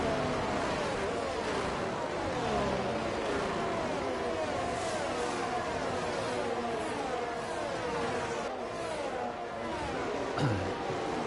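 F3 race cars in a PlayStation racing game at the Spain round sweep through a corner in a steady, dense engine drone. It sits at a moderate level with a faint commentary voice underneath.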